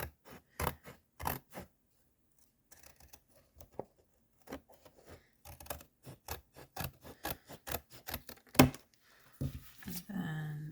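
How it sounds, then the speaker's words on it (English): Scissors snipping off a folded bit of cardboard: a series of sharp, quiet cuts and rustles at close range, spaced irregularly with pauses and handling noise. "I'm actually going to go ahead and cut off this folded bit here too."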